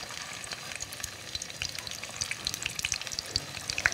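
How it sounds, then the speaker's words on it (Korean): Dumplings pan-fry in a shallow layer of oil, crackling and sizzling continuously with sharp little pops and spits scattered over a soft steady hiss, close and moderately quiet. "팬에다가 약간 기름을 넣어가지고 어쨌든 기름을 좀 많이 넣고 하면 바삭 튀긴 것 같은 느낌인데"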